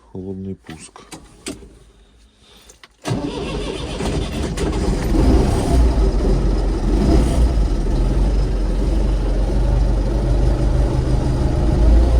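An MTZ tractor diesel engine is cold-started on a 24-volt starter with no glow plugs: a few brief clicks and clunks, then the engine catches loudly at once and settles into a steady, rough, heavy idle close by.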